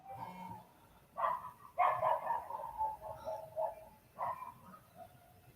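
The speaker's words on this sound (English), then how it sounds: "Someone has the dogs out." Several dogs bark outside in short bursts, a few yips and barks spread over several seconds, muffled and moderately distant, with no talk.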